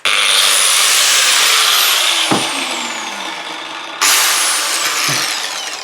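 Bosch GWS professional angle grinder running loud and close, a sustained high whine that dips briefly, then surges again as it is restarted or reloaded.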